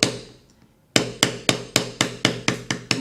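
A leather stamping tool, number E294 with a coarse irregular texture, is struck with a mallet to texture leather, a faint tap then a run of ten sharp, evenly spaced knocks, close and loud.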